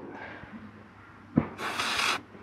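An aerosol can gives a short hissing burst of spray onto a sheep's foot during hoof care, close and fairly loud after a brief thump, with soft handling noise before.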